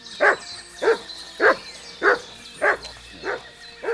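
A dog in Kingdom Come Deliverance II barks six times in a steady rhythm, each bark loud and close with short gaps between.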